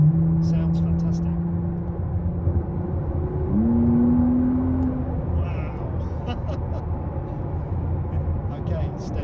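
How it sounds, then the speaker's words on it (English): A McLaren Artura engine in track mode, humming steadily from behind the cabin with a pitch change midway as it shifts, heard under someone talking over the road and interior noise. "The engine note, I've got it in track mode at the moment, and the engine note right behind me sounds fantastic."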